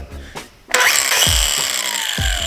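A power tool standing in for a bench grinder, sharpening blades held in a clamp, spins up after a couple of brief clunks and then runs with a loud, sustained whine, broken by a few thuds.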